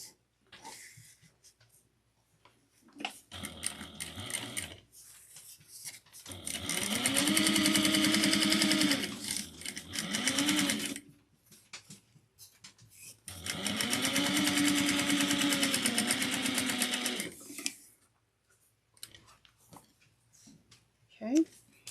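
A sewing machine top stitching fabric runs in two long bursts with short pauses between, a fast whirring motor hum. A quiet voice speaks in the gaps.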